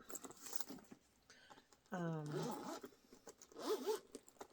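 Zipper on a sewn sling bag pulled open and closed in a few quick rasping strokes, close up, with someone talking over and between them.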